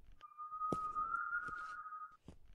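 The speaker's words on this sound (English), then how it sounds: "That's the whistle." A steady, drawn-out whistle tone from the cave horror game The Silent Beneath holds for about two seconds. It sits at moderate loudness over a few soft thumps and faint background noise.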